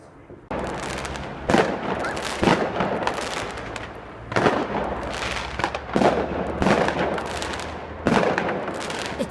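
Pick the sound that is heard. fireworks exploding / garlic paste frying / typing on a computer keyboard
fireworks exploding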